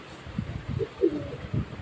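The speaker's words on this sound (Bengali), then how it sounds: "এটা হচ্ছে রেস কবুতর" Racing pigeons in a pigeon showroom give soft, low cooing calls, a few short murmuring bursts that are faint and close, with no talk over them.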